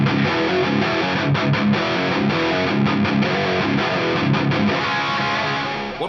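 Heavily distorted electric guitar through the lead channel of a Mesa Boogie amp with a REVV Tilt overdrive, a thick, saturated high-gain lead tone, played continuously and loud with a few brief note breaks.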